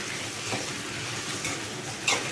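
Boiled cassava being stir-fried in a pan gives a steady, even sizzle with soft scraping stir strokes, close by and continuous, and a brief brighter clatter near the end.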